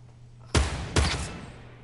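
Two sharp, loud shots from a scoped assault rifle in a video game, about half a second apart, each followed by a short echoing decay over a low background hum.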